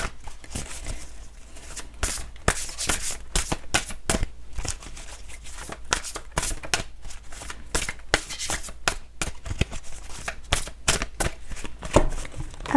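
Tree of Life oracle cards shuffled by hand, a steady run of close, papery riffling and slapping that goes on without a break, dense and busy with no talking over it.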